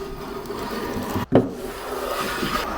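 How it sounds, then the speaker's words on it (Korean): Steady rasping strokes of a Western-style hand plane rounding the rail edges of a wooden surfboard, close and continuous, with a brief pause partway through before the scraping resumes. "대패로 양쪽 레일의 각도를 둥글게 깎아줬어요"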